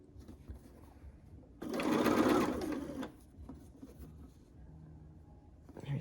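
A sewing machine stitches quilt pieces together in one steady run of about a second and a half, loud and close, with quiet handling noises before and after.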